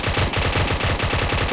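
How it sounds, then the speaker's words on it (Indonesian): Toy HK MP5 gun firing in a rapid continuous burst, a loud close-up rattle of repeated shots with no pauses and no talking. "Dan kita selanjutnya adalah HK-M4 MP5 ya. Nah, ini bisa nembak beneran cuy."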